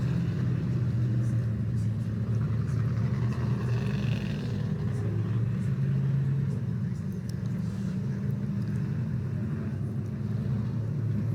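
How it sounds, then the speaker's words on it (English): White number 74 Curtis Craft Midget race car running on a 2.5-mile oval, its engine a steady low drone from turn four down the front straight, continuous and moderately distant with no talk over it. "Exiting now out of turn number 4 and going down the front straight, that white number 74 Curtis Craft Midget"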